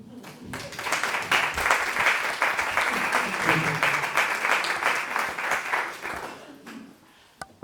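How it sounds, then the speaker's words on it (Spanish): Audience applause during an interview with actress Mariana Cordero, a sustained round of clapping from a seated crowd that swells quickly, holds steadily for several seconds, then fades to a few scattered claps. "Lo que acaba de decir merece un aplauso."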